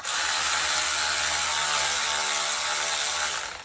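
Ratchet running down oil pan bolts on a Briggs and Stratton engine, a continuous fast whirring click held for several seconds, close and loud.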